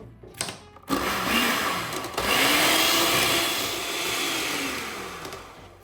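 An electric hand mixer whirs steadily through pumpkin loaf batter, a continuous loud motor drone with a rising and falling pitch after a couple of short starting bursts.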